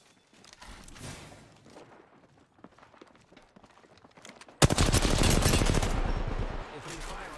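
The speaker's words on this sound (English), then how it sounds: "Opening fire on the enemy." Video game gunfire in a battle royale match, a few faint scattered shots and footsteps at first, then a loud sustained burst of rapid automatic fire for the last few seconds.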